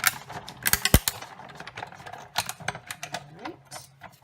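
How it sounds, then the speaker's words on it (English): A Big Shot die-cutting machine is cranked by hand, giving ratcheting, clicking mechanical sounds with irregular sharp clacks, close and moderately loud, and no speech. "go ahead and crank it through the big shot"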